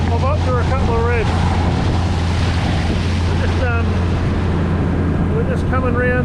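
Outboard-powered fishing boat motoring back up the Hawkesbury River at raised revs, a steady low engine drone running throughout, with wind buffeting the microphone and a voice talking over it.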